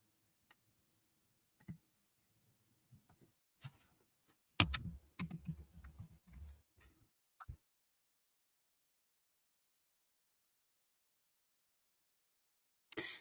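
Scattered clicks of typing on a computer keyboard at a late-night beading session, quiet and sparse, then a brief burst of several keystrokes, a long silence and one last tap.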